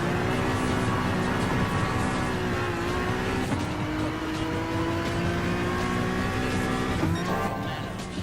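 The Honda NSX race car engine in Gran Turismo Sport drones steadily at high revs, with pitch climbing through gear changes and faint tire noise, continuous and loud throughout.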